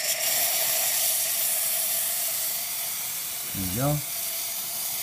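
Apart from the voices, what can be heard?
steam wand releasing pressure on Cremina espresso machine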